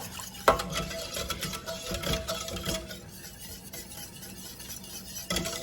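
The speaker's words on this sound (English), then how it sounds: "I'm actually going to go in with my whisk. I want to make sure it's combined really well." Whisk stirring a keto pumpkin spice ice cream base in a pot, giving a steady close scraping and clinking rhythm with a few sharp knocks against the side.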